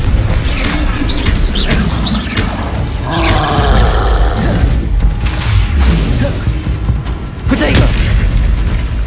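Confringo blasting spells explode again and again in the Hogwarts Legacy video game, a loud, continuous barrage of booms, crashes and roaring blasts, with a voice shouting over the din.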